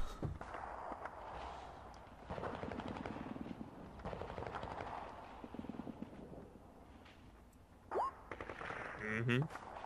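Bursts of machine-gun fire from a tabletop role-playing game soundtrack rattle in repeated volleys, fairly faint, with a background drone and a brief rising tone near the end.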